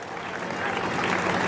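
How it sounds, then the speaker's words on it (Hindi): A crowd applauds at an outdoor Hindu mahapanchayat rally in Mahoba, the clapping steady and swelling slightly louder toward the end. "एक बार जोरदार तालियां बजनी चाहिए हिंदू बेटी बचाओ संघर्ष समिति के लिए।"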